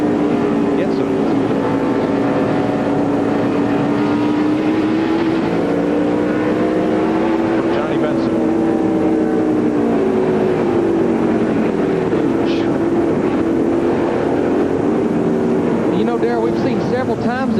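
NASCAR stock cars roar around the track at the 2003 Food City 500, a loud, continuous engine drone with shifting pitch as the pack passes, steady under an excited commentator's voice.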